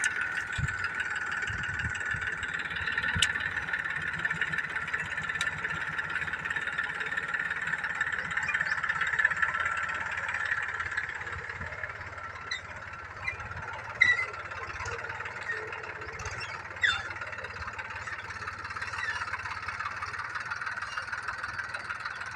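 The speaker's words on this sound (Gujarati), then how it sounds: "તો ટ્રેક્ટર ઓરી રહ્યું છે ખેતરની અંદર" A tractor working a farm field while sowing pearl millet, its engine a steady, mid-distance drone that runs the whole time, with faint scattered background noises and a couple of small knocks.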